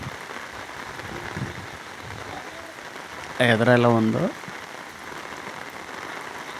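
Steady rain falling outdoors, a continuous soft hiss of drops on surfaces, with someone briefly speaking over it partway through.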